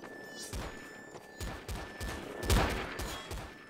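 Video game gunfire bursts out in a quick fusillade of several sharp cracks, with one heavier, louder burst near the middle; the shots sit fairly close and up front, with no speech over them.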